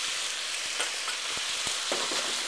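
Chicken coated with tamarind and sweet soy sauce sizzles steadily in a pan, with a handful of soft scrapes and taps as it is stirred, close up and with no voices.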